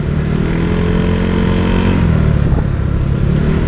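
A motorcycle engine drones loud and close throughout a ride, a continuous rough rumble with steady engine noise and no break.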